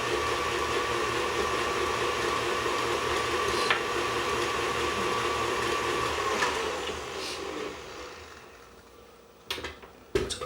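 An electric stand mixer beats chocolate chip cookie dough with vanilla, giving a loud, steady motor whir that fades out toward the end, followed by a few brief clanks.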